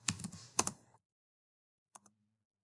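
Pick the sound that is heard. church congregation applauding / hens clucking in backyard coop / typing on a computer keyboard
typing on a computer keyboard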